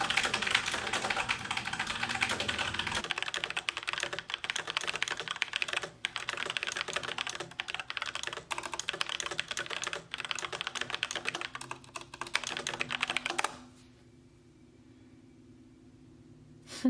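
Rapid, continuous clattering of keystrokes on a rainbow computer keyboard, close and busy for most of the stretch before cutting off into near silence at the end.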